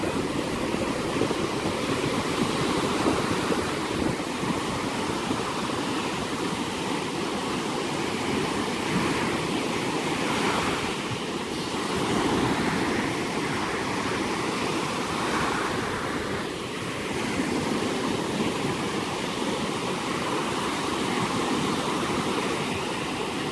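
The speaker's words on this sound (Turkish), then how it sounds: "Deniz, denizin güzellikleri." Sea waves at sunset roll in as a continuous, loud surf roar with wind noise buffeting the microphone, swelling and easing slightly without any talk.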